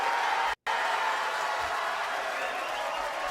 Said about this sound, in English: I appreciate the fake applause though to boost my ego